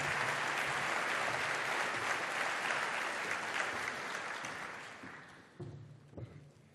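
Audience applause welcoming Michael Burns at a forum event: a large crowd claps steadily and fairly loudly for about five seconds, then it fades out into a few scattered claps.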